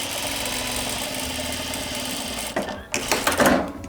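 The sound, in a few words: sewing machine stitching a fabric gift bag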